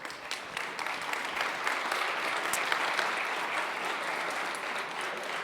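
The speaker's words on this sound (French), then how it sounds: "Encore une fois, une bonne main d'applaudissement pour Clément." A crowd applauds a presenter at a talk on cyber attacks and ransomware, dense continuous clapping at moderate loudness that holds steady throughout with scattered sharper claps.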